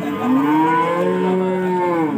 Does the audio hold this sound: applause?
no